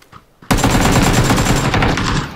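Sustained automatic AK rifle fire in PlayerUnknown's Battlegrounds, a loud continuous burst of rapid shots starting abruptly after a quiet moment and rattling on without pause.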